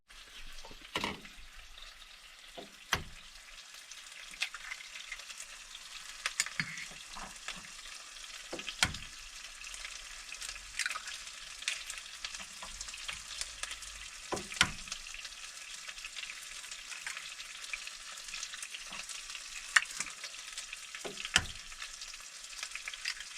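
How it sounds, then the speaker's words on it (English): Chorizo frying in a pan at a campsite: a steady, faint hiss of sizzling fat with scattered sharper pops and scrapes of stirring throughout, close and low in level with no talking. "So we're going to go ahead and prepare the chorizo first"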